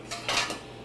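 A metal muffin top pan picked up and set down, three quick light clanks close by in a quiet kitchen, the middle one loudest.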